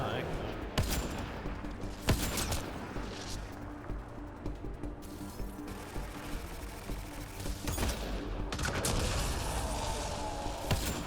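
Dense, continuous video game gunfire with overlapping shots, booms and sharp cracks filling a loud, chaotic battle scene, while a voice speaks over it.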